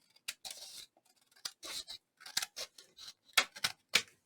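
Scissors snipping through white material while a crafter trims a pocket design: a series of crisp, close cuts, some single and some in quick pairs, quiet and alone with no talk.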